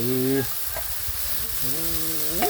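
Eel being stir-fried in a pan, giving a steady close sizzle and frying hiss throughout, while voices with a tonal, sung quality sound over it at the start and end.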